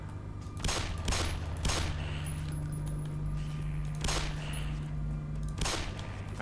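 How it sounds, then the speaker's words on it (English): Gunfire in the Black Mesa Source video game, with about five sharp, loud shots fired at irregular intervals over a steady low in-game hum, with no talking. "I shot at a dead one."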